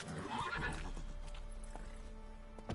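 A horse in The Witcher 3 video game gives a loud whinnying neigh over steady game ambience, with a few hoof clip-clops and faint background tones continuing after it.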